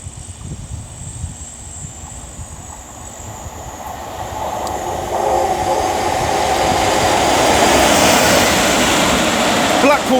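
A Class 37 diesel locomotive, 37407, hauls a train past from Honeybourne sidings towards Wembley, its rumble building from distant to loud and close over several seconds with wheel and rail noise; a voice speaks briefly early on.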